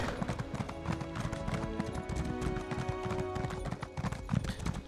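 Horse hooves clip-clopping in a steady galloping rhythm while riding in the video game Elder Scrolls Online, close and continuous over a busy game soundscape.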